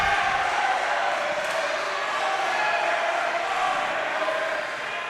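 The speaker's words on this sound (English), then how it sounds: "Very vocal crowd for the Baruch College Bearcats." A vocal crowd at a Baruch College Bearcats versus Hunter college volleyball rivalry game keeps up a steady roar of cheering and shouting. The noise fills the gym at a constant level, with no distinct breaks.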